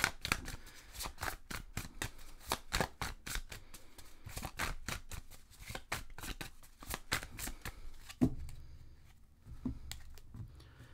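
Tarot cards being shuffled by hand close by, a long run of quick crisp riffling flicks that slows and softens near the end, with no talk over it.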